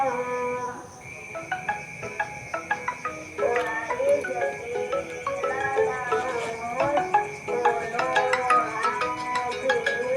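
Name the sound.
mobile phone ringtone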